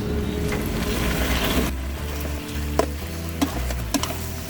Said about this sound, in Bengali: পুঁশাকগুলো দিয়ে কিছুক্ষণ পর্যন্ত আমরা কষাবো কিছুক্ষণ পর্যন্ত ভালো করে কষাবো